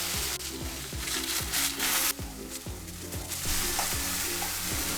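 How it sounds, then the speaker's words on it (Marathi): Ground masala paste fries in oil with a cinnamon piece for dhaba-style egg masala, a steady loud sizzle broken by repeated scraping stirs of a spoon through the pan. "मसाला तेल सुटेपर्यंत 5 ते 10 मिनिटं व्यवस्थित भाजून घ्या"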